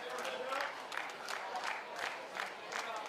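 A crowd at a pickleball championship match reacts with murmuring oohs and scattered claps, a rolling swell of many voices heard at a distance while a commentator talks over it.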